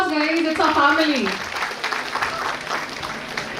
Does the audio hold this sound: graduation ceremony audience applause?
yes